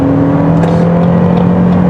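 A 2022 Lexus NX 350h hybrid with an Atkinson-cycle engine revving at high rpm above about 5000, a loud steady droning hum heard close from inside the cabin.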